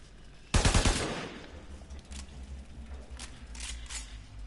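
A loud rapid burst of gunfire from a Warframe video game fight lasts about half a second near the start, then fades into quieter game ambience with a few faint distant pops.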